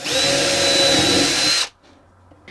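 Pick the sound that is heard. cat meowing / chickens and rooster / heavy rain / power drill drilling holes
power drill drilling holes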